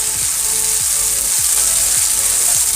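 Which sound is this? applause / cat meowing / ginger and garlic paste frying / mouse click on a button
ginger and garlic paste frying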